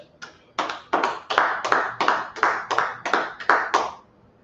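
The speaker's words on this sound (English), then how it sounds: "let's go ahead and clap it up for the class" A class claps together in about eleven sharp, evenly spaced claps, each a crisp group smack, fading to silence at the end.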